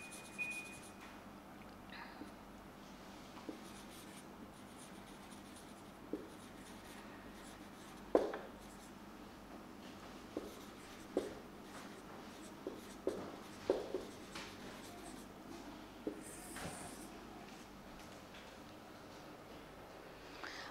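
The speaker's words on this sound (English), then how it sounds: "I will just write down doctor's instructions." Pen or pencil writing by hand on paper, a quiet run of faint scratching strokes with scattered small taps and rustles, heard close up with no talking.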